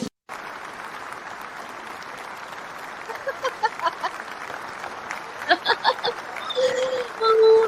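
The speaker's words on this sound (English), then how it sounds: "A long clap, isn't it?" An audience clapping at a mindset mentorship talk by a medical doctor, a soft, sustained patter of many hands in the background, with a few louder individual claps and brief voices or cheers rising toward the end.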